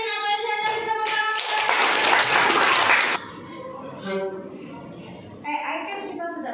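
A class claps hands together in a dense burst lasting about three seconds, loud and broadband, before fading as voices continue talking in the room.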